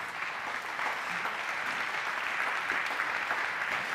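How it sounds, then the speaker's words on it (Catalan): Sustained applause from an audience, a dense even wash of clapping that continues throughout. "aquest aplaudiment per ells"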